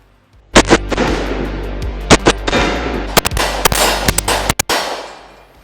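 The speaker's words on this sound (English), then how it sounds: "So now we're shooting critical defense from Hornady, 185 grain, big, heavy hitters." Glock 36 pistol firing Hornady Critical Defense 185 grain rounds, a run of loud, sharp gunshots in quick succession, some doubled close together, each with a ringing tail, close to the microphone with no talking.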